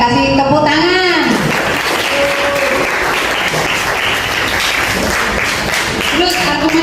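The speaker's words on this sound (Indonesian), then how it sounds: "Bagus, kita kasih tepuk tangan" Classroom applause fills the room, sustained and loud for several seconds, with a teacher's voice talking briefly before and after the clapping.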